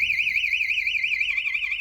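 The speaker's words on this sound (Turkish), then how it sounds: "Az önceki duyduğunuz alarm sesi" A loud electronic alarm wails continuously with a rapid warbling pitch, steady and close throughout.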